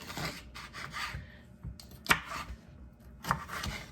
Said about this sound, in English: I'm going to cut this in half again